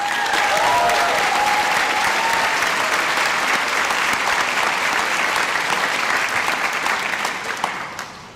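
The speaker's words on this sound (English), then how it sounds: "Let's also give them a big round of applause." Sustained audience applause at an NYU Wagner graduation convocation, a dense, steady wash of many hands clapping that holds strong for several seconds before slowly thinning toward the end, with a brief tonal voice or cheer near the start.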